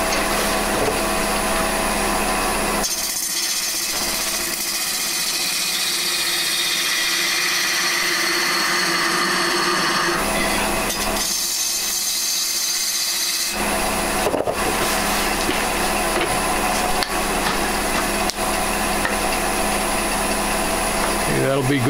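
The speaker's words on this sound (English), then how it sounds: "Now we'll grab a bowl gouge, put a tenon on this end." A wood lathe runs steadily as a bowl gouge cuts a tenon on a lamp base blank, a continuous whirring, scraping hum broken by brief pauses where the tool lifts off, with faint talk in places.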